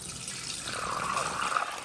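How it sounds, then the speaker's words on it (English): Homemade limoncello with lemon strips poured into a kitchen strainer, a soft continuous trickle and splash of liquid heard close and steady, with no talking. "pour it into a strainer, at least get the lemon strips strained, and then I'll put that through the coffee filter"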